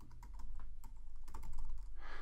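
Steady, close typing on a computer keyboard, with rapid clicks and taps of keys as copyright text is entered, and no one speaking.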